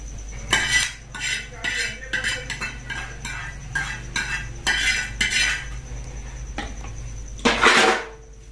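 Metal spoon repeatedly clanking and scraping against a pot and serving dish while curry (salan) is ladled out in a home kitchen, a steady run of close clinks ending in a louder scrape, no talking.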